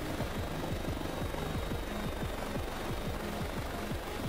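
A helicopter flies in a video game, its rotor beating in a fast, even chop under a steady loud engine whine, with no talk.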